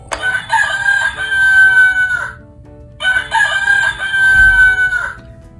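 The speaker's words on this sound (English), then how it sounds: "Roosters make the sound cock-a-doodle-doo." A rooster crows cock-a-doodle-doo twice, loud and close, with each long call followed by a pause.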